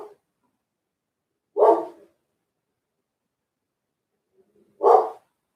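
A dog barks twice, with about three seconds of silence between the two sharp, close barks. A very faint brief sound comes just before the second bark.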